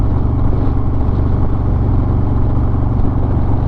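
A 2020 Harley-Davidson Low Rider S with a Milwaukee 8 engine runs with a loud, steady low rumble, close up and continuous throughout.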